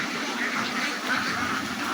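Ducks at a duck farm in Dandapal, Debiganj, give a dense, steady wash of quacking and chatter from a large flock, continuous and moderately near with no pauses.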